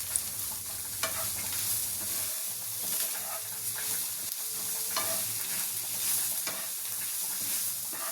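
Spices (coriander powder, turmeric, garam masala and chili flakes) are stirred into a sizzling paneer cutlet mixture in a pan, with soft scraping strokes and a few sharper knocks over a constant frying hiss.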